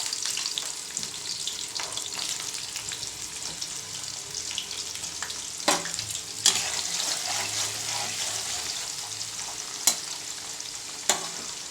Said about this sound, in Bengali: এবার একটু পেঁয়াজগুলো দিয়ে দেবো।